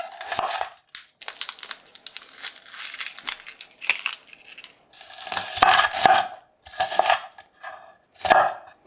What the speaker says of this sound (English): Give the cabbage an intense rub with that salt.